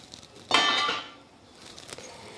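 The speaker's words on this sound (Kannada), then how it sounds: "ಮೊದಲೇದಾಗಿ ನಾನು ಒಂದು ಪಾತ್ರೆ ಇಟ್ಕೊತೀನಿ ರೀ." A cooking vessel is set down in a home kitchen, making a single bright metallic clink with a short ringing tail that fades within half a second, followed by quiet room noise.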